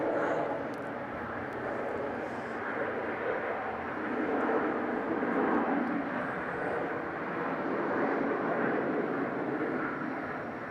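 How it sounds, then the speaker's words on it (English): A small propeller plane's engine drones at Melbourne Airport, a broad rumbling roar that rises and falls gently over several seconds, moderately loud and steady with no speech. "Such a big noise for a little plane."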